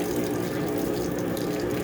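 A Maytag commercial top-loading washer spins its drum, a dense, steady mechanical whir with rattling and water churning, close and continuous throughout.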